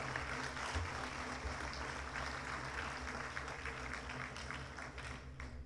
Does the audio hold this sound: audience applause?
yes